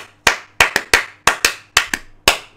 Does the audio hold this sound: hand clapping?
yes